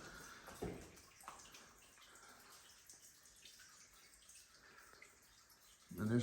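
Water trickles and runs quietly across a cave floor, a faint steady flow echoing with occasional drips and brief voices.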